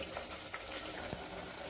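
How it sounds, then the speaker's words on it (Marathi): Sprouted moth beans (matki) tipped into a hot oil tempering and stirred, giving a steady close sizzle and frying hiss with a faint stir scrape. "आता आपण हे धुवून घेतलेली मटकी त्याच्यात टाकून द्यायची फोडणीमध्येच ह्या अशा पद्धतीने"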